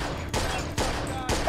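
Gunfire in a video game: three loud, heavy shots about half a second apart, each with a booming tail that fills the gaps.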